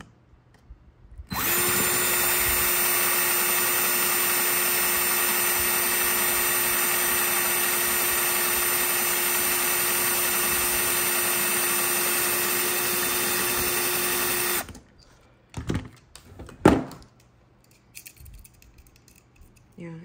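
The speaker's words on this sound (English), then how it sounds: "it just needs to drill through there" A power drill boring through a notebook whines loudly and steadily for about thirteen seconds, then cuts off, followed by a few scattered clunks and handling noises.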